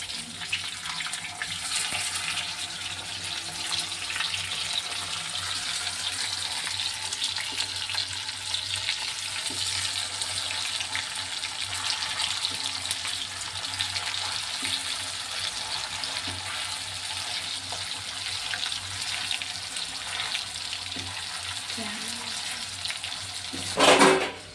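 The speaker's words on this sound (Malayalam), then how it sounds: "ഇപ്പുറത്തെ സൈഡ് നന്നായിട്ട് മീൻ ഫ്രൈ ആവുന്നുണ്ട്" Fish fries in a pan beside a pot of boiling fish curry, giving a steady, hissing sizzle that runs unbroken for the whole stretch, with a brief louder clatter right at the end and no voices.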